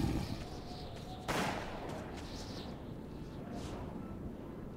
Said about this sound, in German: Ich hab auf jeden Fall Schüsse.